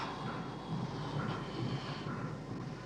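A steady, droning engine roar with a low rumble holds at an even level throughout, like aircraft engines running nearby.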